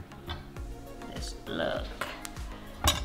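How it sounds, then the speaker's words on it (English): A knife cuts a butternut squash in half on a cutting board, giving several low thuds spaced through the clip, with faint clinks and a brief sharper knock near the end. "now I'm going to cut them another half on this side"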